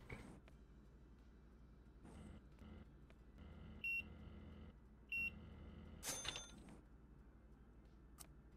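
Two short electronic beeps in Gaming Cafe Simulator, spaced about a second apart over a quiet hum with scattered clicks and thumps.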